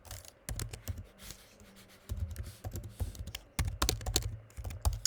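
Rapid clacking keystrokes on a computer keyboard come in bursts with short pauses, close and fairly quiet, typing into a chat box during a forex trading lesson.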